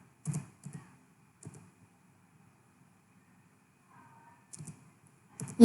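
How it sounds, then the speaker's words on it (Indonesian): Several short bursts of keystrokes on a computer keyboard while a command is entered during mail server configuration, in quick clusters separated by quiet pauses, fairly close and without speech. "Kemudian kalau sudah, kemudian kita ketik apt"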